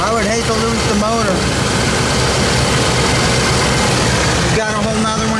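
A 305 V8 in a Chevy van with roughly 100,000 miles runs at a steady idle, a loud, constant low rumble, with a voice briefly audible at the start and near the end.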